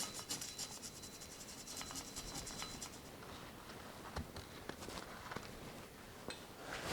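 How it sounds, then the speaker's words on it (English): Stiff stainless steel wire brush scrubbing a vintage 1970s Craftsman 3/4-inch ratchet during restoration, giving a continuous close, scratchy rasping with bursts of quicker strokes, steady and fairly quiet, with no talking. "Give it another clean here with a stainless steel brush."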